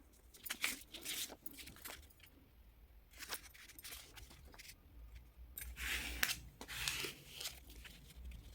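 Scissors trim a strip of paper down to five centimetres wide for a journal page, giving close, repeated snipping and crisp paper rustle in uneven bursts.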